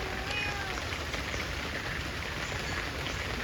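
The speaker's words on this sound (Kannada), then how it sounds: "ಇವತ್ತು ಮಳೆ ಬರ್ತಾ ಉಂಟು ಕಂಟಿನ್ಯೂಸ್." Continuous rain falls steadily as an even, dense hiss of drops that stays constant throughout with no voices.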